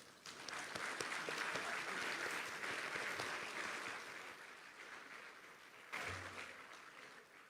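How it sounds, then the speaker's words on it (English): A convocation ceremony audience claps in a sustained, dense round of applause that swells and eases, then a brief renewed burst with a low thump near the end; no speech on top. "Let's show our appreciation with another round of applause."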